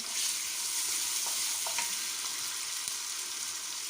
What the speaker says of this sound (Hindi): अब हम इसके अंदर अपना टमाटर डालते हैं और टमाटर को अच्छे से मैश करते हैं